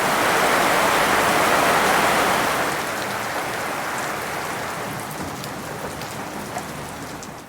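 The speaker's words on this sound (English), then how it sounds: "while it's pouring rain outside." Heavy rain pours steadily outside, a loud, dense hiss of falling water that is strongest early on and eases slightly while staying continuous, with no talking.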